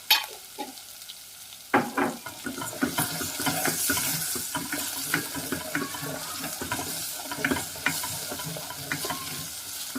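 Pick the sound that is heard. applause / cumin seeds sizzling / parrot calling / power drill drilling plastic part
cumin seeds sizzling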